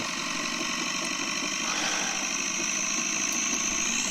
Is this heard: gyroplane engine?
yes